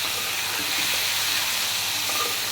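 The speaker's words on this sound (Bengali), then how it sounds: "ফার্স্টে ফুলকপি, আলু ভেজে নিচ্ছি" Cauliflower and potatoes frying in hot oil for a Ramadan iftar dish, giving a steady, close sizzling hiss that runs unbroken and fairly loud throughout, with no talking.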